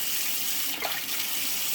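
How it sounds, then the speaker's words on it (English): Warm tap water runs into a sink, a loud, close, steady rushing stream that holds constant without voices. "I just want to make sure my water's running because I need some warm water too."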